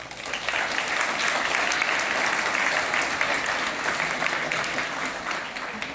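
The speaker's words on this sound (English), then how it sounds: "So please give them a warm applause, Mark and Carolin." Audience at an ecommerce conference summit breaks into sustained applause, a dense wash of clapping that swells quickly and holds steady for several seconds before easing slightly.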